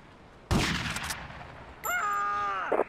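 A single loud gunshot bursts out in GTA Vice City and rings off briefly. Soon after comes a sustained, tonal, horn-like sound.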